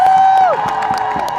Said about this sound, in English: I want to hear a big round of applause for our Coast Salish tribes.